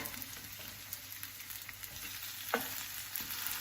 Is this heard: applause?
no